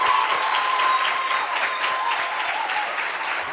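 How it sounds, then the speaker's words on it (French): A studio audience on a Réunion talk show claps steadily and warmly for a guest, a dense even applause lasting a few seconds with no voices over it. "Applaudissements pour lui."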